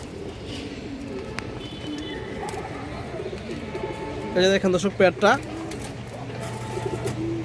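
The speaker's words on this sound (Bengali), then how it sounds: "পিওর সবুজ গলা কবুতর দর্শক।" A pair of green-necked pigeons coos softly in a short burst of throaty calls partway through, beneath someone talking steadily over faint background noise.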